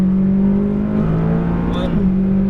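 A McLaren 570S at full throttle on the Las Vegas racetrack gives a loud, steady engine drone from inside the car, its pitch holding high and dipping slightly near the end.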